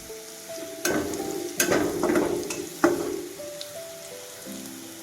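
Onion and garlic fry in a pot, with a few loud scraping stirs clustered in the middle over a low background sizzle.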